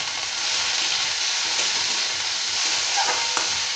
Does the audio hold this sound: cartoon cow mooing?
no